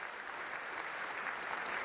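Steady, dense applause fills a large hall as a crowd reacts to the debut of the first Zelda: Twilight Princess teaser at E3.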